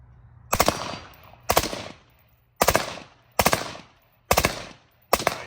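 HK G36 rifle firing two-round bursts outdoors: six sharp, loud paired cracks spaced about a second apart, each fading quickly into a short echo tail.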